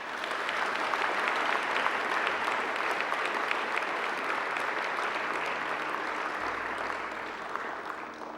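A graduation ceremony audience gathered in a courtyard applauds the academic staff with broad, steady clapping that holds evenly across the whole stretch and fades only slightly near the end.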